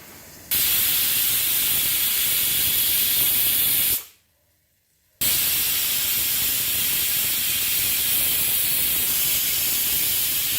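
A pressure cooker whistle vents steam with a steady, loud hiss, cutting off abruptly for about a second before the forceful hissing resumes and continues.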